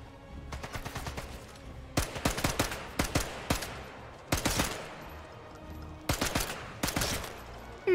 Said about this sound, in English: Let's bring out a submachine gun now.